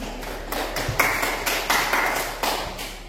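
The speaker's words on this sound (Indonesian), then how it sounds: "Kita beri tepuk tangan" Brief, sparse clapping from a few people in a classroom, distinct claps spaced irregularly over a few seconds with no talk.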